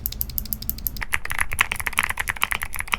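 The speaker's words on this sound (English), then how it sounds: "Definitely one of the most refined sounding clicky switches we've tested." Typing on clicky mechanical keyboard switches, a steady run of crisp, sharp key clicks close up, with a brief softer patch at the start before the bright clicking takes over.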